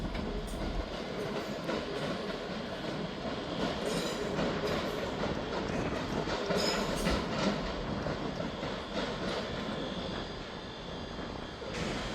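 A TransPennine Express train departs Edinburgh Waverley station with a steady, moderately distant rumble and intermittent clacks and light squeals from the wheels on the rails.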